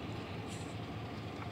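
U.S. Sugar engine 310 passes through Clewiston, Florida as a steady, dense rumble with a low drone that stays constant throughout, heard from some distance and fairly faint.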